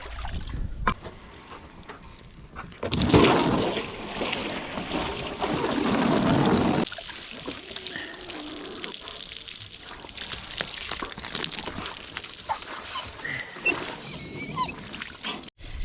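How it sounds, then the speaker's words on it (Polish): Water pours from a garden hose into a bucket outdoors, a rushing splash that swells loud in the middle stretch, then settles into quieter trickling and gurgling. "Woda się nalewa."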